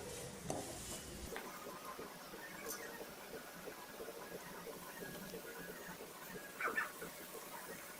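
Mixture being sautéed in oil in a pan for mango rice, with soft, steady sizzling and occasional scrapes of a spoon stirring, quiet and close.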